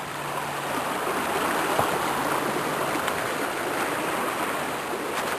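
Brook water rushes steadily over a rusted bridge, a constant broadband wash of flowing stream that stays even from start to finish with no talking.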